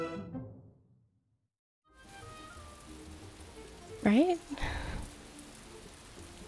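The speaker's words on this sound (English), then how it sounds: "And then the rain happens." Rain in the video game Lonesome Village, a steady hiss of falling rain that starts after a brief silence, with a person speaking briefly over it.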